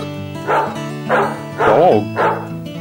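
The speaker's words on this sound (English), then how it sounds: "Woof, woof." A dog barks four times in a steady, evenly spaced rhythm, loud and close, over a gentle background music bed on a children's pets vocabulary track.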